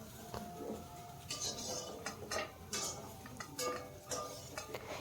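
A spatula scrapes and clinks against a wok-style pan while lifting out fried potato and broccoli, faint irregular metallic taps and scrapes with low kitchen hum.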